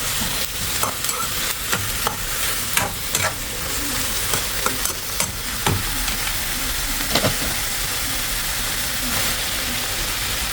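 Eggplant frying with shrimp paste in a pan, a steady sizzle and hiss under repeated sharp scrapes and clinks of a utensil stirring at irregular intervals, close and fairly quiet.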